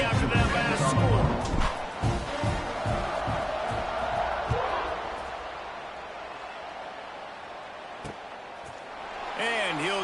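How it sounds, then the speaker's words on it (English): A football stadium crowd buzzes and roars after a score, a dense continuous wall of cheering voices that swells loud at the start, eases, then rises again near the end. "this crowd is buzzing after that last score"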